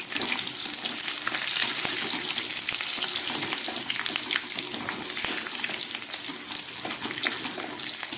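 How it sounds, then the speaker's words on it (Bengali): Potatoes fry in a pan with salt and turmeric, giving a steady, moderately quiet sizzle with crackles and occasional stirring clicks throughout. "আলুগুলো খুব ভালো করে ভেজে নিলাম।"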